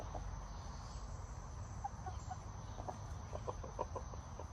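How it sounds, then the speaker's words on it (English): Soft, low clucking from a young rooster pacing in a crate, in short bursts, faint against a steady hiss of crickets and background noise. "clucking sound that he's making as he paces in the crate"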